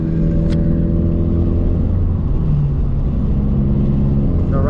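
Interior drone of a car with coilover suspension and a cold engine, driven gently: a steady low engine hum with road rumble, even and continuous throughout.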